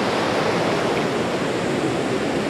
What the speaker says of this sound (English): The waves here are crazy.